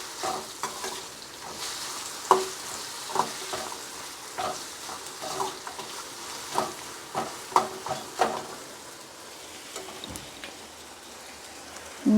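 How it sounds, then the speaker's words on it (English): Vegetable biryani ingredients are stirred with ghee and masalas in a hot pan, giving a steady crackling sizzle with rhythmic scrapes and taps of a spoon throughout. "now let us mix all the ingredients. I can smell ghee and the masalas flavors."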